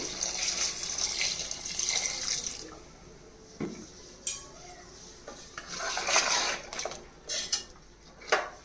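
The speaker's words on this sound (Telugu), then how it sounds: "ఇప్పుడు ఒక గ్లాస్ తోటి పెద్ద గ్లాస్ తోటి ఒక గ్లాస్ వాటర్ వేయాలి" A large glass of water splashes into a pressure cooker of mutton and potato curry amid clinking utensils and metal scrapes, in short irregular bursts with quiet gaps; no talking.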